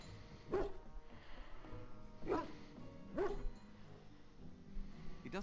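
A dog in the Dragon Age Origins video game gives three short, distinct barks spaced about a second apart, fairly quiet against a low game background, with no talk.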